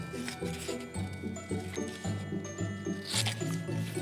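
Scissors cut through paper in a steady rhythm of short, crisp snips, close by and fairly quiet.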